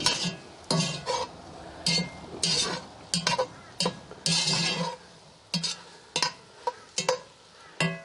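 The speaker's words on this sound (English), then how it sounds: "We'll mix it all up." Chicken, leek and mushroom soup stirred in a camp oven, with a utensil scraping and clinking against the cast-iron pot in a string of irregular, close strokes and soft frying hiss between them.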